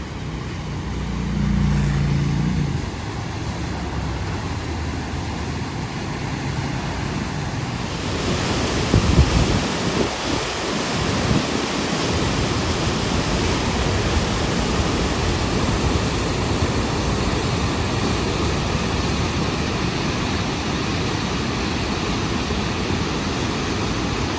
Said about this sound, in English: how much water is just pouring down